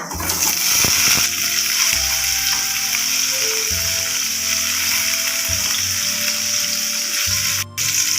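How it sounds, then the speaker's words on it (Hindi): Potatoes for a jackfruit curry fry in a little hot oil, giving a loud, steady sizzle close up with intermittent stirring and low rumbling underneath. "एबे आमे सेथिरे आलू को दे भाजी नेबा"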